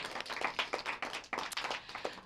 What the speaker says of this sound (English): I think that deserves a nice round of applause.